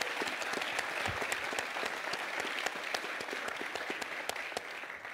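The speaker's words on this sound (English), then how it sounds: "So a round of applause for him" Audience applause at a media summit panel on underrepresentation in sports media, a steady, dense patter of many hands clapping that holds evenly for several seconds, with no voices over it.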